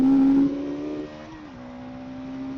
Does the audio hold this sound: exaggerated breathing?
no